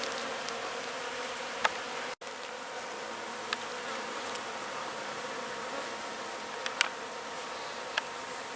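A bee buzzing outdoors, a faint, steady hum under light background noise, with a few small clicks and no talking.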